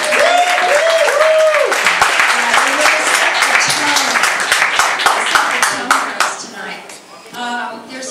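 A concert audience at a Twin Peaks Fest 2008 Q&A event applauds the band with a dense, sustained burst of clapping that slowly thins out. Voices are heard along with the clapping.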